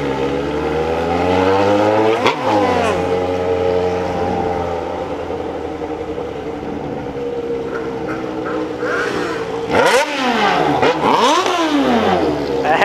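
A Yamaha XJ6 motorcycle with a straight-through exhaust revs hard and loud up close, its pitch climbing and falling in several sharp sweeps, with a sustained high roar between the blips.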